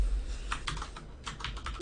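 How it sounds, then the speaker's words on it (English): Someone types quickly on a computer keyboard close by, a short burst of light, rapid key clicks with no voices over them. "that was me typing incorrectly"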